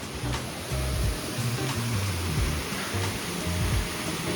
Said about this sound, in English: And then you got the waterfall.